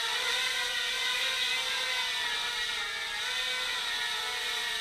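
A QFO Labs Quad Fighter quadcopter flies indoors with its motors whirring steadily, a loud, continuous buzzing drone that wavers slightly in pitch as the throttle and tilt change.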